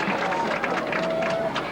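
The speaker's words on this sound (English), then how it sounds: "And the crowd cheering Willard Stem." Crowd at a 1975 college football game between Edinboro and East Stroudsburg cheers for an injured player, a dense, continuous roar of many voices with scattered clapping, steady and fairly loud throughout.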